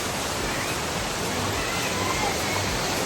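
Rampa waterfall at Peddakonda, flowing at low volume, gives a steady, dense rushing roar close by, unbroken for the whole stretch.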